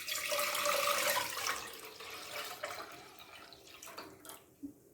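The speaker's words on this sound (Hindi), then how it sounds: "सबसे पहले हम फ्लेम ऑन करेंगे, दूध डालेंगे।" Milk, about 1.5 litres, poured from a container into a cooking pot for kunda kheer, a steady splashing liquid stream that thins and tapers off into a few final drips and trickles.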